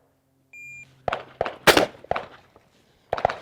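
Shotgun firing buckshot at a shooting range: a short electronic beep, then several sharp, close reports with quick tails, a last pair coming after a pause.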